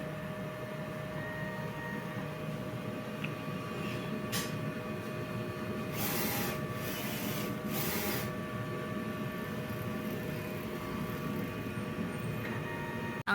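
A DTF printer runs a nozzle test, a steady mechanical hum with a few brief whooshing carriage passes partway through, close and continuous with no talk.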